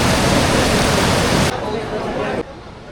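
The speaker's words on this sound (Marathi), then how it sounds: "बघू शकता पाण्याला किती जोरात पाणी वाहतंय" Fast-flowing river water at Gangotri in Uttarakhand gives a loud, continuous, close rushing roar that drops abruptly to a quieter level twice.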